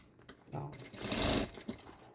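A sewing machine stitches backpack lining in a short burst, a close whirring run that builds and fades, with brief quieter clicks before and after.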